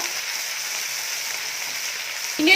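Dried fish frying with cut green chillies in a pan over a low flame, a steady close hiss of sizzling oil that sharpens into a brief louder crackle at the very end.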